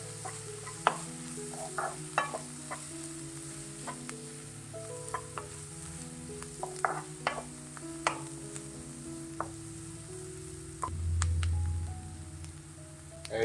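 Goan potato bhaji with turmeric and green chili is stirred in a hot pan. A spoon scrapes and taps in an irregular rhythm over a soft, steady sizzle, close by and fairly quiet, with no talking.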